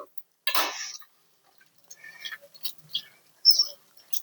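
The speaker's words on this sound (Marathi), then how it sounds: "असं हे कारल्यातलं पाणी निघतंय" Water drips and trickles from bitter gourd being squeezed by hand: a few short, close splashes and drips scattered through an otherwise quiet stretch.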